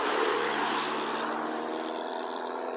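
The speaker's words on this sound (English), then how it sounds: "A hearse just came past me." A hearse driving past on a road, a moderate engine and tyre whoosh that swells and then slowly fades as it moves away.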